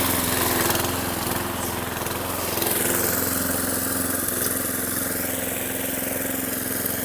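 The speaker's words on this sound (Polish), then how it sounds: "odsunę się, bo chyba hałasuje ta kosiarka dosyć mocno" A lawn mower runs steadily close by, a constant loud engine drone with a low hum and no break, cutting fairly rough grass.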